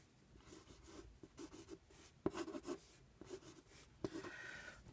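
Pencil or pen strokes on paper sketching a cartoon character's feet, soft scratchy rubbing in short bursts with a couple of sharper taps, quiet and close.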